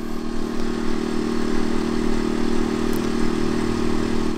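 A CAT INV2000 inverter generator runs on eco throttle about 15 feet away, giving a steady, even engine hum with a constant low drone and no change in pace.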